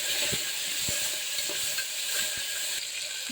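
Onion, green chilli and peas frying in a pan, a steady sizzling hiss with occasional soft stirring scrapes, close and continuous with no voices.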